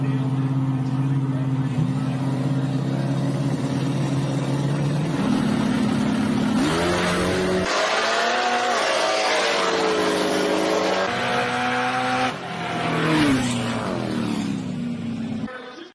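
A True Street drag race car roars loudly at full throttle, the engine note climbing and then dropping off as the driver lifts near the end, with crowd talk and commentary over it.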